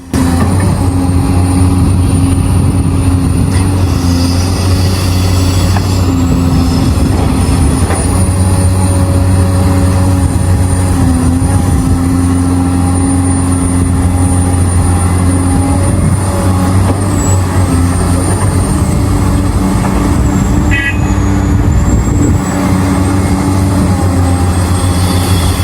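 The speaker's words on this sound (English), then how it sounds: "the CAT 374D and CAT 365C excavators in full action, loading huge dump trucks non-stop" At a worksite, CAT 374D and CAT 365C excavators load huge dump trucks, making a loud, continuous heavy diesel drone with steady low engine tones and a brief hiss of air near the end.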